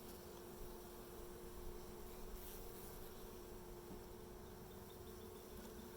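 Honeybees buzz in a hive that has just been re-queened, a faint, steady drone that holds without a break.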